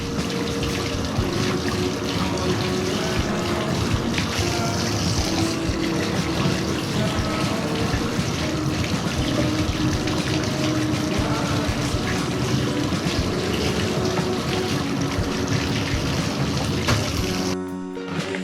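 Filter media for an AquaClear 50G aquarium filter are rinsed under running water: a loud, unbroken rushing splash lasting about eighteen seconds before it cuts off abruptly, with no speech.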